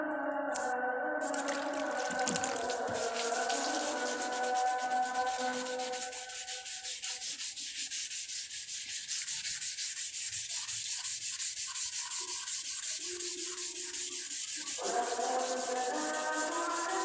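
Rough 36-grit sandpaper is worked by hand over car body filler, a steady rasping scrub in continuous strokes, close and fairly quiet, with a brief pause partway through.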